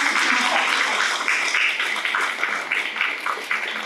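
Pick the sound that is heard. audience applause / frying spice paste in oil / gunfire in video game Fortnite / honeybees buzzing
audience applause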